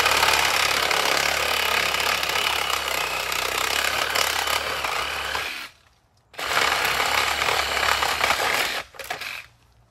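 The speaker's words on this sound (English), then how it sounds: "This is a DeWalt saw, they call it, a reciprocating saw." A DeWalt reciprocating saw cuts through reeds, a loud, steady buzzing drone that runs for several seconds, stops briefly, then resumes before cutting off again near the end.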